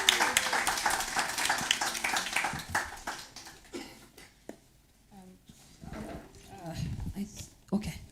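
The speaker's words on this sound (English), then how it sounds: "Please give your hands a round of applause." An audience at an art exhibition showcase applauds in a dense burst of clapping that fills the first few seconds and then fades out as a voice begins speaking.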